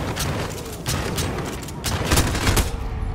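Rapid bursts of automatic gunfire crackle through a Modern Warfare battle, with overlapping volleys and sharp cracks rising toward the end and scattered game noise underneath.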